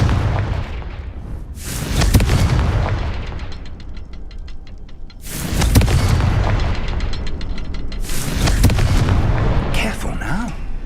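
Heavy booming blasts from the Confringo fire spell in the video game Hogwarts Legacy, three loud bursts a few seconds apart, each followed by crackling debris and rumble.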